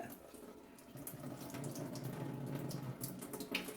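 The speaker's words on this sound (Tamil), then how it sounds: "இப்போ இந்த மாதிரி தண்ணியை நல்லா இப்படி புழிஞ்சிடுங்க." Water being squeezed by hand out of washed paneer for kalakand: a soft, continuous trickling and splashing of water, faint and close, with no talking.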